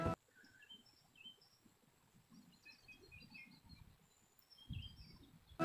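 Scattered faint bird chirps and tweets in a forest beside a village river, small high calls dotted over low rumbling handling noise, with a faint insect-like background.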